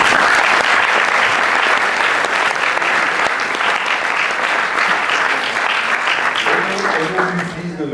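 Sustained audience applause fills a film festival closing ceremony, dense and steady throughout before thinning slightly at the end as a voice begins speaking.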